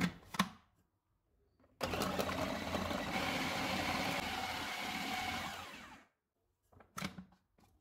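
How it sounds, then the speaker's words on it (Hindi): An electric food chopper chops four frozen bananas in a loud, continuous whirring burst of about four seconds with gritty grinding, framed by brief clicks and bumps before and after. "चॉपर में 4 फ्रोज़न बनाना डालेंगे, इनको चॉप करेंगे।"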